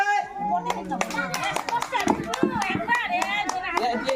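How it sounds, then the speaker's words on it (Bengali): Village women clap loudly in a group, bursts of sharp hand claps repeating through the clip under and between talk and children's voices nearby. "জোরে হাততালি।"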